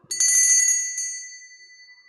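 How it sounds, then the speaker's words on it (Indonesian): A bright bell rings in quick repeated strikes for about half a second, then one more strike rings out and fades slowly into silence. "saya akan meramal kartu remi dulu dengan ditandai lonceng berbunyi"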